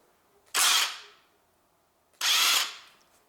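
Two loud bursts from a power tool loosening the alternator bolts on a 1.8-litre Honda Civic engine, each a sharp whirring rattle lasting about half a second before fading, with a quiet pause between them.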